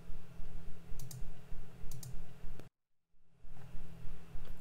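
A few crisp computer mouse clicks come in pairs over a steady background hum, followed by a short dead-silent gap.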